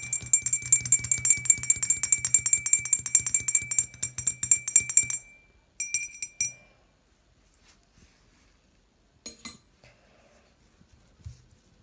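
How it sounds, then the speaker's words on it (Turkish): A spoon stirring olive oil and water in a glass, rapid bright clinks ringing for about five seconds, then a few short bursts of tapping separated by silence. "Şimdi karıştırıyorum"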